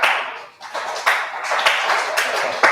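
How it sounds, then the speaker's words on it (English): A few scattered claps from a small group, irregular and close, with sharp individual hand slaps breaking through a soft background murmur. "Whenever you're ready, just clap"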